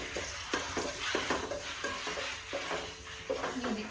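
Onion and garlic fry in hot oil for pasta, a continuous close sizzle broken by repeated scraping stirs at a fairly even pace, with no talk.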